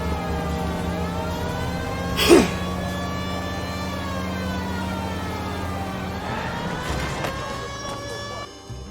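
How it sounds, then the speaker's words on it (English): A police car siren in the video game LA Noire wails steadily under game music and engine noise, with a louder burst near the start and a second swell later on. "Siren's blaring."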